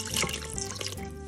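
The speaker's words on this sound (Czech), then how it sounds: "Přileju vodu." Water is poured into panettone dough in a home kitchen, a short steady splashing trickle heard close up with no talking.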